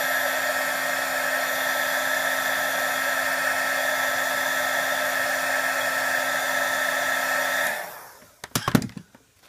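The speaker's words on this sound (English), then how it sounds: "And I'm going to heat emboss this." A heat gun blowing continuously at steady pitch while heat embossing a Halloween card, a close whirring hum that cuts off near the end, followed by a few handling clatters.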